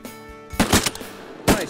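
Shotgun blasts fired at incoming ducks during a waterfowl hunt, several sharp loud reports in quick succession with one more shot a moment later, ringing out over outdoor ambience.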